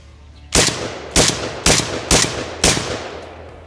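An ATI Bulldog shotgun fires Remington 1200-velocity shells at a range, five loud, sharp blasts spaced about half a second apart, each trailing into a short echo.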